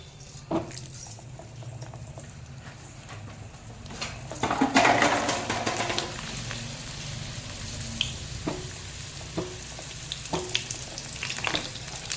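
Indian gooseberries (amla) fry in oil in a pan over low heat, making a steady crackling sizzle with a louder burst of spattering midway and scattered pops and clinks of stirring throughout.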